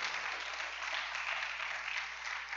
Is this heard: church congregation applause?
yes